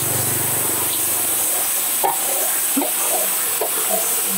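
Meat frying in hot oil for kala bhuna at a Rajshahi street food stall, a steady close sizzle with occasional stirring scrapes and clinks, no talking.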